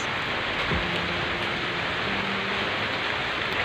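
Unbroken rain falls on a flooded garden of watermelon plants, a uniform close hiss of drops on foliage and soil, with a faint low hum briefly underneath.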